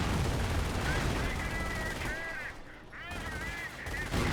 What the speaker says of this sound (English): The half track's just firing away.